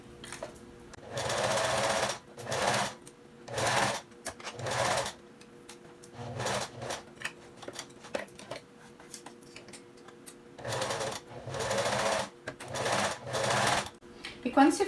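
A domestic sewing machine stitches around the V-neck neckline of a tank top. Short, loud mechanical whirring runs of one to two seconds start and stop repeatedly at close range, with a person talking in the pauses between them.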